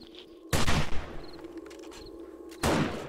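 Gunfire in the zombie survival game 7 Days to Die: two loud, close broadband bursts of shots, one lasting about half a second and a later one near the end, with quieter game ambience and faint beeps between.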